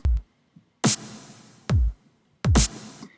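Sparse programmed drums, simple and weak-sounding, four distinct hits with snappy snare-like bursts and low kick thumps, separated by short near-silent gaps.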